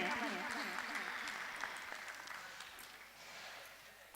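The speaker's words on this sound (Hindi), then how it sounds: "इस बात पे एक तालियां बनती हैं" Applause from a crowd at a Jaiswal community gathering in Jabalpur, a continuous wash of clapping with a voice speaking over the opening, gradually thinning toward the end.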